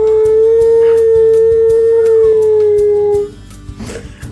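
A dog howls in a long, sustained vocal tone that bends like the spoken words "I love you," then breaks off into quieter whines and huffs.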